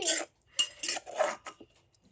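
Sharp clattering knocks in quick bursts as a pestle strikes and scrapes a mortar pounding papaya salad, close by with brief pauses between strokes.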